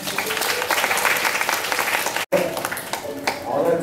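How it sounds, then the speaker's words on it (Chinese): Applause from a church congregation during a children's memorial Sunday service, steady clapping filling the room for several seconds, briefly cut off midway then resuming. "好，我们再一次掌声鼓励一下。"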